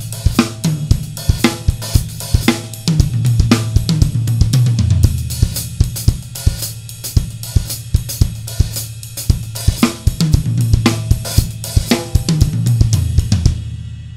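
Drum kit playing a groove built on a hi-hat gliss pattern at a quicker tempo, punchy kick and snare hits under a busy hi-hat, close and loud throughout with no talking.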